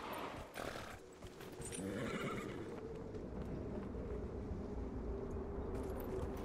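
Horse hooves clip-clopping and a neigh in the Dragon Age Inquisition video game, a continuous busy game soundscape with steady mid-level rumble and movement, no one speaking.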